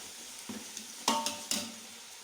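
Onions and tomatoes for chicken biryani are sautéed in a pan under a faint sizzle, with a few distinct spoon scrapes and clinks in quick succession, close and quiet.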